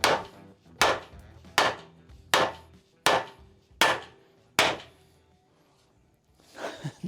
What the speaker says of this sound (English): Next step will be to pound the nut cups into the frame, so I'm going to do that now.